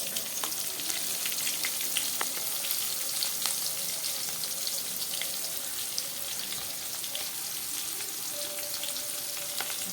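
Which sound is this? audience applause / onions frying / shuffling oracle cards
onions frying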